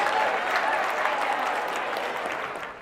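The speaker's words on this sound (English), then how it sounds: "Clap it up for yourselves and have a seat." Audience applause from a seated crowd, dense steady clapping filling the room, close and fairly loud, tapering slightly toward the end.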